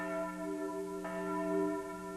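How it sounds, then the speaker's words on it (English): A Taylor church bell rings out with a sustained, shimmering tone, its steady overtones humming throughout and a fresh strike landing about halfway through, loud and alone. "Taylor bells sound from church towers the length and breadth of Britain"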